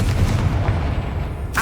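A loud, heavy blast from the Confringo fire spell in Hogwarts Legacy, rumbling booms that roll on steadily and end with a sharper burst, with no voices.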